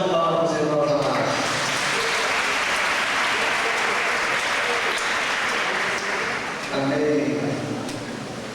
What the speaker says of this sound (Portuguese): Na salva de palmas, os irmãos amados.